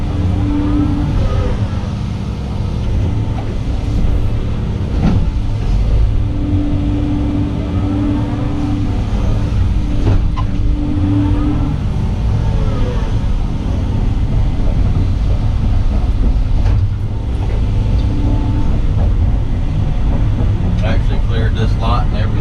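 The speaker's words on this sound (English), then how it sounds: "So I just pile it in the dump truck any which way, and then you can haul it up there and dump it out." A dump truck hauls fill for a new driveway near a lake, its engine a loud, steady rumble with a sustained drone throughout, while a person talks close by over the noise.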